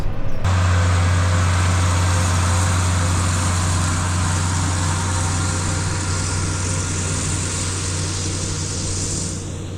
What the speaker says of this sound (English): What an absolutely beautiful afternoon to be driving around in the tractor